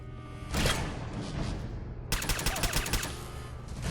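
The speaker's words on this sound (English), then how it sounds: "Oh, that's a machine gun." Machine gun fire in Fallout 4, one loud burst early followed by a longer rattling stream of rapid close shots, with game ambience between volleys.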